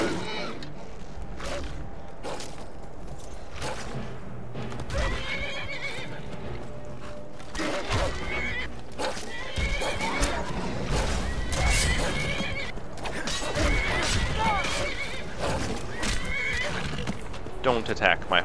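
A horse in the Skyrim video game whinnies loudly and repeatedly while hooves clip-clop nearby, with game sounds mixed in throughout.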